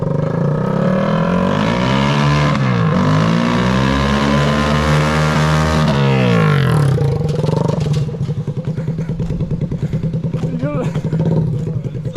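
A lawn mower engine revs loudly and close, its pitch sweeping up and down in long climbs, then dropping to a rough, rattling idle, with a voice heard briefly over it.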